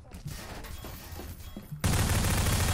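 Gunfire in the Prop Hunt video game: a few scattered shots under game noise, then a loud sustained burst of rapid fire that fills the last second, with voices around it.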